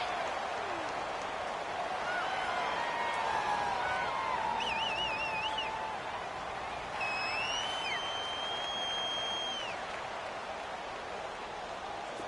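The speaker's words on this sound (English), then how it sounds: "the crowd getting into it as we come up on a big 3rd down" A stadium crowd in a football video game, late in the fourth quarter, keeps up a broad steady roar with whistles rising over it, moderately loud and distant-sounding.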